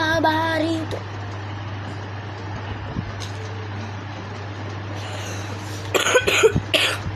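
Someone coughs near the end of a stretch of quiet room hum with a steady low drone, giving a short cluster of sharp coughs close to the microphone.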